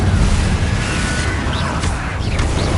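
A Confringo fire-blast spell in Hogwarts Legacy bursts as a loud, dense explosive rumble with heavy low boom and crackling debris, sustained through the moment with faint whooshing effects on top.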